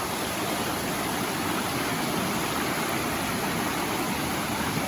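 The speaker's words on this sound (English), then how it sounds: "This channel over here is usually dry, but it's running pretty good." A normally dry river channel running full during a flood in Maine, a dense, steady rushing roar of fast water that fills the whole stretch without change, close by with no voices.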